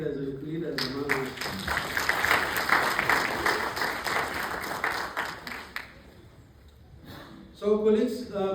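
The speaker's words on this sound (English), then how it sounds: "let's clap hands to the female cadres and leaders among us" Audience clapping for female cadres and leaders at a winter school welcome session, a burst of many hands applauding for several seconds that fades out, with a voice speaking just before and right after.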